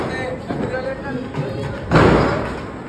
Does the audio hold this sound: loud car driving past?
no